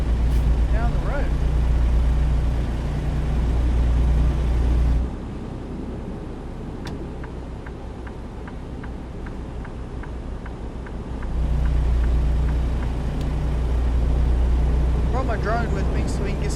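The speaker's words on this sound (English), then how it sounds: "let's get this truck up to speed here and" A truck engine drones steadily as it drives down the road in American Truck Simulator, a continuous low hum that drops in level partway through and then returns.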